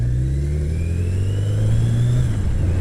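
Engine of a ride during an afternoon trip after work, a loud steady drone close by that rises in pitch as it accelerates, with a constant low rumble underneath and no talking.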